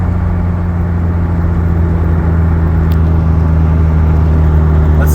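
Honda CRX engine idling steadily as the car rolls to a stop, a continuous low hum with a faint whine, close and alone with no talk.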